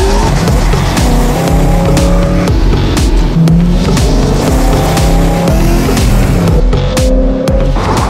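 Car driven hard at high speed around a test track, a loud sustained engine roar with shifting revs and tire noise, close and continuous throughout with no talk.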